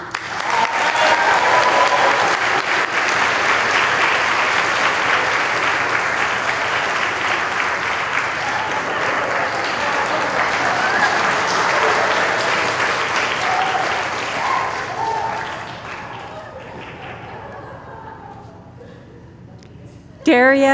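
A graduation audience at Commonwealth School applauds for a graduate, a broad, loud wash of clapping that holds steady for about fifteen seconds and then thins and fades, with a voice briefly audible at the close.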